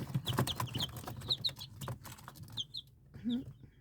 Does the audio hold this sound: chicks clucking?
yes